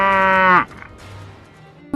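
A buffalo in an animated Hindi story gives a loud, drawn-out moo that breaks off sharply. A quieter low rumble follows, and there is no talking.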